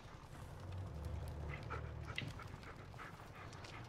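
A dog in the Blair Witch video game gives soft whimpers and panting close by, faint and intermittent over a low, steady ambient bed with no speech.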